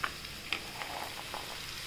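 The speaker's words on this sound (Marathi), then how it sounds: "आता आपण ही गवार धुवून घेतली ती टाकूया" Washed cluster beans hit hot oil in a pan, giving a steady, quiet sizzle with a few sharp crackles and pops scattered throughout.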